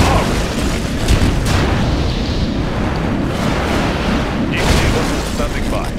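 Dense rumbling booms and explosions from submarine torpedo launches in the strategy game Red Alert 2, continuous and loud with broadband bursts, under a game unit voice.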